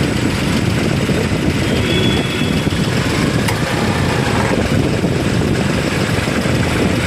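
A Volkswagen Ameo engine idles steadily with the AC switched on, a continuous close, loud low rumble with a faint whine above it and no voices.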